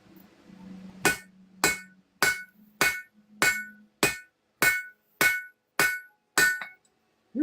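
A blacksmith hammers metal at a lit forge, striking ten sharp, ringing blows at a steady, even pace, close and loud, with a low hum under the first few strikes.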